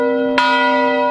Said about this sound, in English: Stephanie Herseth Sandlin rang the Eidsvog bell as students passed by